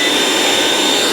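A kitchen mixer running on UPS power gives off a loud, steady, high-pitched motor whir with no pauses throughout.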